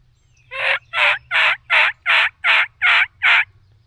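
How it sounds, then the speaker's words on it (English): A strutting wild turkey gobbles in eight quick, evenly spaced, loud bursts from close by, followed by quiet, with no one talking over it. "Oh, that's him gobbling."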